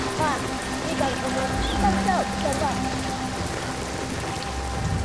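Steady rain falls during a storm in a rural African setting, a dense continuous patter with scattered brighter drops, with faint chirps and a voice over it.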